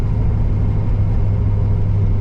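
A steady, low engine rumble from a C5 Corvette idling or cruising, deep and even throughout with no talking.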